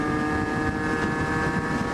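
A Derbi GPR two-stroke GP-style motorbike ridden at speed, a steady loud engine drone with strong wind rush buffeting the microphone throughout, no voices.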